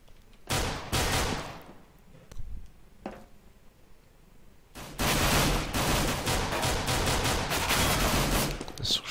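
Gunfire in a Counter-Strike match on the de_nuke map: several sharp shots, then a long burst of rapid firing, loud and close with no talk over it.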